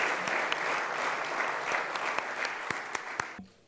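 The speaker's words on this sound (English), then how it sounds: "Give a round of applause to Ms." Steady applause from an audience welcoming the president at a VAT awareness presentation, with sharp individual claps standing out, continuing for over three seconds before dropping away.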